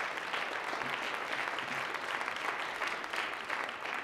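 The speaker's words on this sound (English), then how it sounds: "Stand up, Angie, accept your applause." Steady applause from the audience at a grade school Christmas program in a church setting, a dense wash of clapping for about four seconds with no speech over it.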